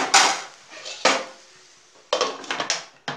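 A metal lid set onto a cooking pot while green bean gravy is prepared in a home kitchen, giving a few sharp clanks and clatters spaced apart with quiet gaps between.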